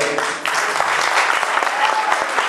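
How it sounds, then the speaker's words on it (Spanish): A crowd at a live show with musicians and dancers breaks into loud, continuous applause for the artists, thick clapping with a few sharper individual claps standing out. "El fuerte aplauso entonces para todos y cada uno de los artistas."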